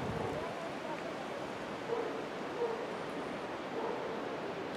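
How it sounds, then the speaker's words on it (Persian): A dog barks a few times in the distance on a spring day in Hashtgerd, Alborz Province, Iran, faint and spaced out over a steady wash of outdoor ambience that may include a river. "And the dog barking in the distant"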